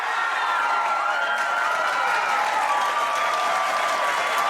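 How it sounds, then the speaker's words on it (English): Sustained applause from a live-stream audience fills the whole stretch, dense steady clapping with a touch of crowd noise, close and loud throughout. "The applause that you're getting from that."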